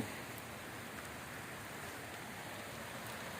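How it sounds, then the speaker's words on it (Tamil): Steady rain pours down outdoors at a hilltop temple during a fire ritual, a dense, even hiss of drops on surfaces with no break and no voices. "நம்மளுக்கு மழை வந்துருச்சு."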